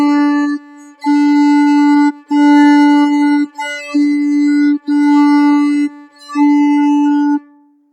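Violin playing the quarter-note line of Hot Cross Buns, six evenly separated bowed notes at a moderate steady pace, close and clear, with no talking.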